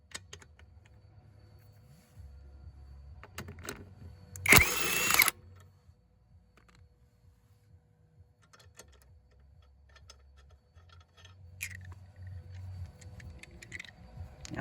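Wheel lug nuts, including a locking lug nut turned with its key, come off by hand: scattered metallic clicks and taps with a low rumble, broken by one brief loud burst of a power tool spinning, and no talking.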